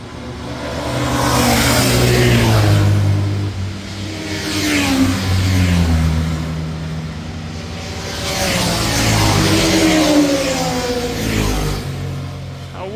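Motorbikes race past on the Nurburgring circuit, several loud engine passes rising and falling in pitch as they roar by nearby, one after another with brief lulls between.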